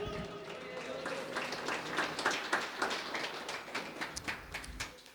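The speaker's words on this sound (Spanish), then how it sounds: "Fuerte aplauso, Iglesia de Cristo." A church congregation claps together, quiet and somewhat distant, the overlapping claps forming a loose, pulsing rhythm for several seconds.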